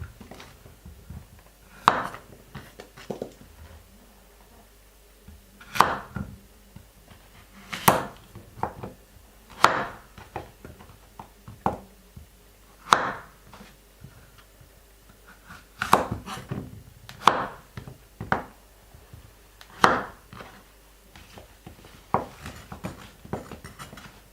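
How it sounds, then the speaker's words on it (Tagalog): A knife chops zucchini on a board in a steady series of sharp, loud knocks, about one every second or two, with no talking. "Hiwa po tayo ng zucchini."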